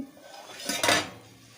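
A lid clatters onto a metal pot of fish curry, a short clink of metal on metal followed by a brief splash as water is poured in, close and fairly quiet.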